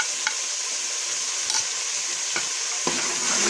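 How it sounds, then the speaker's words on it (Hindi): Spices such as turmeric, chili and garam masala being stirred into chonge (Caralluma fimbriata) and potatoes frying in a pan, a steady close sizzle broken by a few soft scrapes of the spoon. "मसाले को मिक्स करेंगे"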